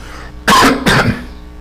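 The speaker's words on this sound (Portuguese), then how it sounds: "Tossi um pouco" Two loud, close coughs in quick succession, each a harsh burst, with quiet room tone before and after.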